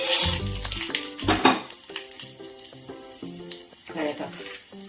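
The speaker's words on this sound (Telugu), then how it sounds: "ఆయిల్ కాగింది, తాలింపు వేసుకుందాం." Tempering spices hit hot oil in a pan for a chutney, crackling and sizzling close by with scattered pops and stirring clatter.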